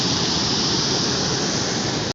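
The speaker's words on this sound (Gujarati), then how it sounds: "તમે જોઈ શકો છો ધોધ પડી રહ્યો છે" Waterfall at Dantiwada dam during monsoon rains: a constant, loud, broadband rush of falling water that fills the whole stretch without pause before cutting off abruptly.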